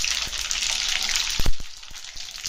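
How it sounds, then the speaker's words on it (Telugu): Mustard seeds and chillies sizzle in hot oil, a steady bright hiss broken by a few sharp pops and crackles close by. "దీనిలోకి మనం కొన్ని ఆవాలు వేద్దాం, కొన్ని మిరపకాయలు, వీటిని కొంచెం వేగనిద్దాం"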